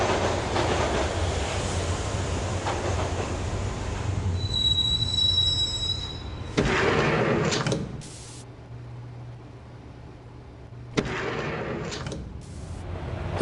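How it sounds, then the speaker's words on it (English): A subway train in the Max Payne video game rumbles along rails with a loud, steady roar and high wheel squeal, surges as it passes, then drops to a quieter hum before rising again. "the train doors had already shut behind me, and I was in for the ride"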